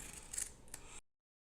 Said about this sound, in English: And I'm using these general scissors.